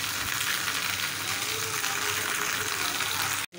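Okra and green chilies fry in a pan with a steady, dense sizzle that holds level throughout, cutting off briefly near the end.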